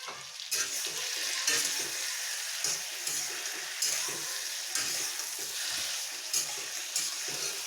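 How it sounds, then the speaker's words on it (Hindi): Stuffed ridge gourd (tori) cooks in a pan as amchur powder is mixed in, giving a continuous close sizzle with soft scraping stirs and light clatter, and no voices. "इसमें अमचूर पाउडर डाल दे रही हूँ मैं हाफ टी स्पून के आसपास और इसे अच्छे से मिक्स कर दे रहे हैं।"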